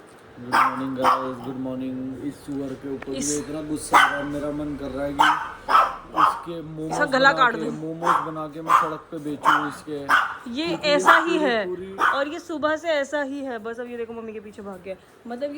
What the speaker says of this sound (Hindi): सुबह से यही कर रहा है, भौंके ही जा रहा है।